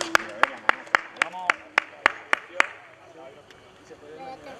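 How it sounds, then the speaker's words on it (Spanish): Spectators clapping at a popular triathlon in Villa Alhama, with a series of sharp, evenly spaced claps that fade out, under an announcer's voice on a loudspeaker. "Fuerte el aplauso"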